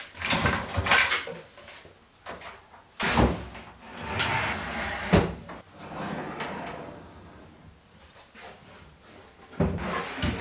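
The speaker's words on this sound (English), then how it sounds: "I can just pull the lid out and put it in its place" A wooden lid pulled out and fitted into place over a folded-down miter saw on a woodworking bench, with a few scattered thumps and sliding knocks spread over several seconds, close and moderately loud.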